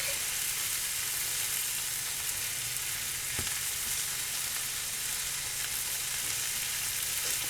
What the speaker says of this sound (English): let this just get toasty, let this get hot, flip it over